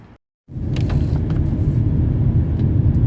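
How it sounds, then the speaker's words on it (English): A car drives along a road on a snowy day, a steady close interior rumble of engine and tyres that starts abruptly after a brief quiet gap. "now I'm driving home"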